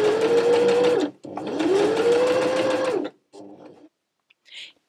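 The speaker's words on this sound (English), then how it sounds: "the machine, ideally sewing directly on that line" A sewing machine stitching a rolled hem runs in two loud, steady bursts with a rising whine as it gets up to speed, followed by a few short, softer mechanical sounds.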